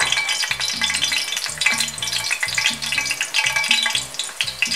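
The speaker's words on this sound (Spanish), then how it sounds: "Ahora en un caldero caliente vamos a echar el aceite. Vamos a poner el ajo." Garlic sizzles and crackles loudly in hot oil in a heated pot, with steady frying hiss broken by rhythmic stirring clatter throughout.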